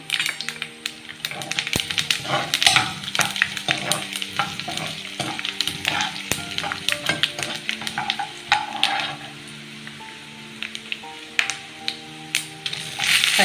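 Coriander seeds and cumin dry-roasting in a pan for a coriander-tomato chutney, with a close, continuous crackle and many quick ticks and taps of seeds and spatula against the metal.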